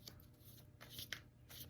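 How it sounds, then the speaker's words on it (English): Tarot cards are shuffled in several quiet, papery riffling bursts, soft and close, with short pauses between passes and no talking. "I'm going to give the cards a shuffle"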